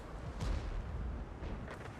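A tank cannon fires at an enemy tank in a tank video game: a heavy, booming shot lands early and a second burst follows near the end, both over continuous low battle rumble.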